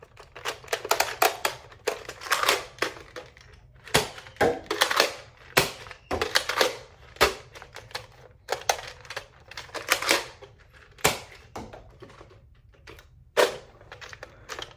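A Nerf N-Strike Maverick Rev-6 revolver blaster fires darts one after another, each shot a sharp close snap and click with cylinder ratcheting between, in irregular bursts with no voices.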